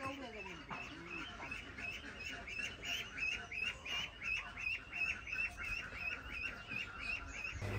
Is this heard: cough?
no